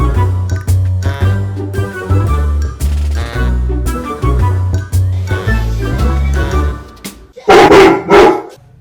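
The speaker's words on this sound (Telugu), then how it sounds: "టీవీలకు ఈ కుక్కలు కూడా బాగానే అలవాటు అయినట్టున్నాయి కదా" Several dogs bark repeatedly at a television, sharp barks layered over steady music-like background sound, ending with a louder, denser burst of barking.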